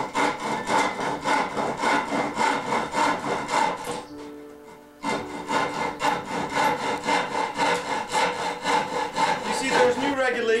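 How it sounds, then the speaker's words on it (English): A handsaw cuts through wood trim in a steady back-and-forth rhythm of close, rasping strokes, pausing briefly midway before the sawing resumes just as loud. "See, I gotta cut it just a little bit more here."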